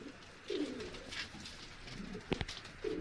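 Sialkoti pigeons in a breeding setup coo in a few soft, low bursts near the start and end, with a brief sharper rustle or flap in between, against quiet background hiss.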